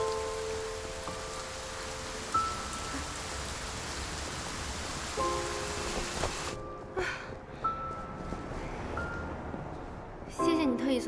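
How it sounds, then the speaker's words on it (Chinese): Heavy rain falls outdoors as a steady broadband hiss behind indoor scene audio, then drops away abruptly partway through. Faint tonal music and a little talking sit under it. "外面那么大雨"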